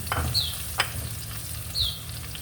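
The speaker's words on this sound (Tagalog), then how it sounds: "Yan, gisa tayo ng sibuyas. Pagsamahan na natin yan. Sibuyas, bawang." Onion and garlic sautéing in a pan, a soft close sizzle broken by a few quick scraping strokes of a spatula, fairly quiet and with no voices.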